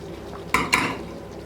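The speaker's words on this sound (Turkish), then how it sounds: "Şöyle önce bir karıştırıyorum" Sour meatball stew with carrots and potatoes being stirred in a pot, with two short scraping clinks of a spoon against the pot over a steady simmering background.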